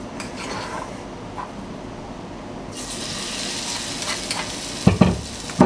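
Chili paste ingredients for a dried-shrimp nam prik stir-fry in a little oil, a soft steady sizzle with occasional scraping stirs that swells louder midway and ends with a few sharp utensil knocks.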